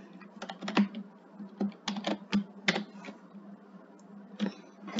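Someone types on a computer keyboard in irregular bursts of sharp, close key clicks with brief pauses between, entering C++ code.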